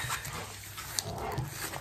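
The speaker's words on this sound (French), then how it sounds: "les chiens sont tellement heureux de me voir revenir à chaque fois que c'est la fête" Several excited dogs greet their owner returning home on a weekday morning, giving soft whimpers and small yips close by over a steady low hum, with no talking.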